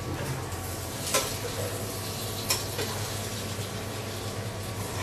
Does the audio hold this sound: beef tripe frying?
yes